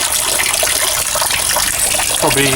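Engine oil from a Renault Megane mk3 gushes steadily into a catch pan, a loud close pouring rush that runs without a break for a couple of seconds.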